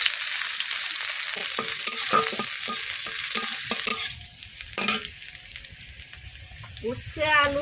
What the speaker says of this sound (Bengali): তেল গরম হয়ে গেছে, 5 ফোঁটা পেঁয়াজ কুচিগুলো দিয়ে দেবো